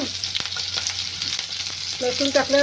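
Garlic sizzles in hot oil along with chili, a close and steady frying hiss broken by stirring scrapes, with a brief background voice near the end.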